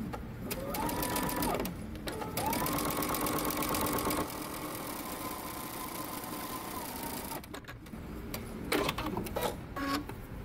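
A sewing machine stitches a pocket seam at 3/8-inch allowance in a steady, close mechanical whirr that runs nearly nonstop, with brief pauses and clicks toward the end.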